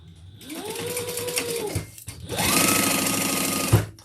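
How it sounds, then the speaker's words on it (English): A sewing machine runs in two steady bursts while stitching the sides of a leather Karla bag, close and whirring, spinning up and winding down each time with a brief pause between. "let's sew down the sides"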